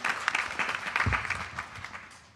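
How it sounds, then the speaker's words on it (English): An audience applauds at a Sunday morning satsang for the Guru Purnima celebration, a dense, steady patter of clapping that lasts a couple of seconds at moderate loudness before easing off slightly. "Let's give Auntie Indra a big round of applause"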